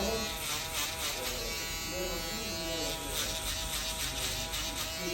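Electric hair clipper buzzing steadily while trimming a sharp low fade haircut, a close continuous motor hum with someone talking over it.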